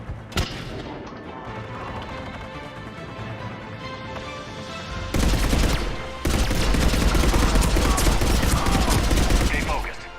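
Rifle gunfire in Mass Effect 3, dense sustained bursts with thumps and crashes, loud and continuous through the latter half after a quieter stretch of background game noise.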